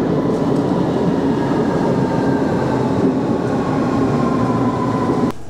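A train runs through a dark tunnel into an underground station platform in Stuttgart with a steady, loud rumbling roar and faint wheel squeal, with no voices.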